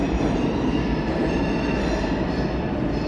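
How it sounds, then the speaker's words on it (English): A New York City subway train rumbles loud and close, its heavy rolling drone carrying a thin metallic squeal of wheels on the rails, steady throughout with no voices. "I'm just hanging out in the subway"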